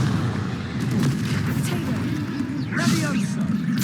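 Confringo spell blast in the Hogwarts Legacy video game, a dense booming burst with crackling fiery tail amid continuous battle noise and music, with a voice briefly calling over it.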